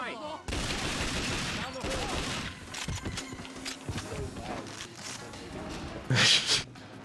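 Rapid bursts of gunfire from a broken gun in the video game 007 Nightfire, shots piling up in dense, loud volleys with footsteps and game effects mixed in and a sharper blast near the end.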